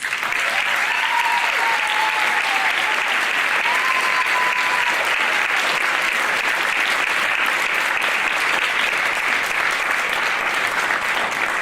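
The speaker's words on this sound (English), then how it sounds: "Can we give our first-time letter winners a round of applause?" Parents and families at a high school spring band concert give steady, sustained applause for first-time band letter winners, a full, even roar of many hands clapping throughout with a faint voice briefly audible early on.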